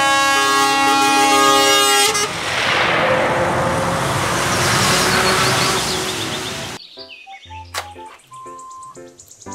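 A toy container truck sounds a loud, harmonic air-horn blast for about two seconds, followed by a broad rumbling motor roar, then a few short, sparse electronic beeps and tones toward the end.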